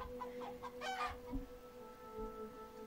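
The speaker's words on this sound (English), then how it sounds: "Look at these chickens." Chickens clucking in a farmyard scene of a video game, soft clucks and short calls at a moderate distance over a steady hum and background music.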